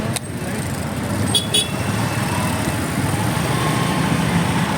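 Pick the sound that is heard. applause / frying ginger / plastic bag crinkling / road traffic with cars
road traffic with cars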